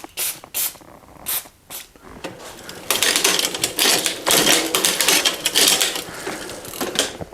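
Aerosol lubricant sprayed onto a Trek FX bicycle's front derailleur during a home tune-up, starting with short separate bursts and then a longer run of close, loud hissing spurts mixed with light mechanical clicks.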